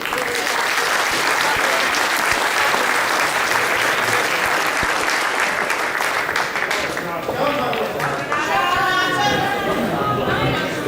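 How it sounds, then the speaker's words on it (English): Loud, sustained applause from an audience honouring bowler Justin Sajich after a men's singles bowls grand final, dense clapping with crowd chatter throughout and a few voices rising near the end. "One round of applause for Justin Sajich."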